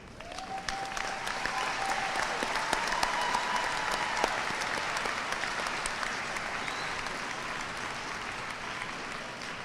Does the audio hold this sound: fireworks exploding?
no